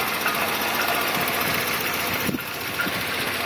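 A 1964 Dodge Dart GT V8 idles steadily at close range, a continuous low rumble with a slight uneven lope and one brief blip partway through.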